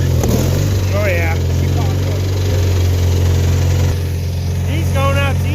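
Old tractor engine running at low idle, a steady low rumbling drone that stays constant and loud, with people talking over it.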